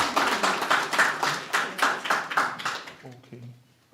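A small audience at an art exhibition and book launch claps as a speaker comes on stage, a rhythmic, fairly close patter of hands that fades out near the end, followed by faint voices.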